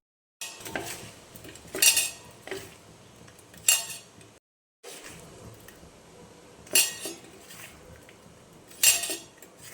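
Fish being mixed with turmeric, salt and chili powder in a bowl, with close soft squishing and repeated sharp clinks of a utensil or hand against the bowl, in two bursts separated by a short pause.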